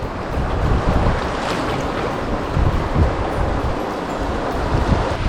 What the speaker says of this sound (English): it's pretty loud down here, but you can see there's really fast water over here